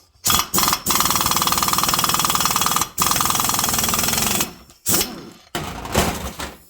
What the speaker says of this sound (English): Put the impact on.